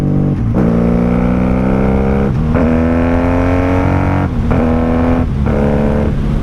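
A 1995 motorcycle with Jardine pipes roars loud and close, its engine note rising steadily between abrupt momentary cuts in power as gears change without the clutch, down twice and then up twice.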